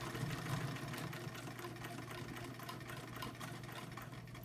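Vintage Brother 190 Flairmatic sewing machine with a 0.9 amp motor running steadily, a continuous mechanical hum with a fast stitching patter throughout, moderately quiet and without talk.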